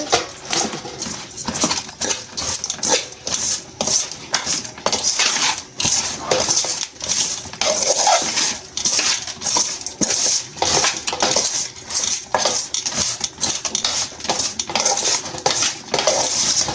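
A metal spoon stirs oil through an eggplant and dried fish curry in a pot, giving rapid repeated clanks and scrapes against the vessel in a busy, uneven rhythm, close and fairly loud, with no talking.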